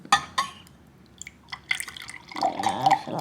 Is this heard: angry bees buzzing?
no